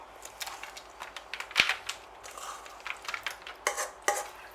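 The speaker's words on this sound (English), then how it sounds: "Gently run the spoon over the top." A metal spoon scrapes and taps against a pan while spreading a sticky condensed milk mixture over a Florentine slice, giving a series of close, irregular clicks and scrapes.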